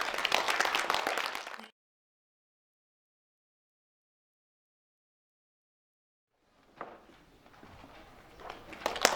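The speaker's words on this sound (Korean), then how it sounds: "격려의 박수를 보냅니다." Audience applause at the 51st Korea Journalism Awards ceremony: a dense burst of clapping fills the hall, stops abruptly into silence, then resumes more softly and swells again near the end.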